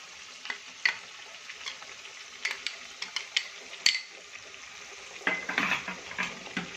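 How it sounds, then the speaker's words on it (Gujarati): A spoon scrapes and clinks against a pan while ginger and chili paste masala sizzles and fries, with repeated stirring strokes at an uneven rhythm over a steady background hiss. "મસાલાને આપણે વચ્ચે વચ્ચે આ રીતે ચલાવીશું"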